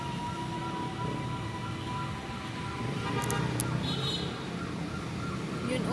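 A fire truck siren wails steadily at a house fire in Paco, Manila, the rising and falling tone moderately loud over crowd and street noise, with faint voices in the background.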